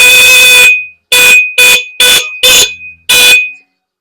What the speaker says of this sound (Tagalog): Pagka nahinaan na kayo sa tunog ha, palit busina na yan.